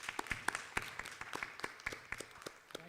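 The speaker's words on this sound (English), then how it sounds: "Let's give him a big round of applause." A small audience at a mayoral forum claps, a quiet, sparse patter of individual hand claps in an uneven rhythm, faint and distant, with no voices over it.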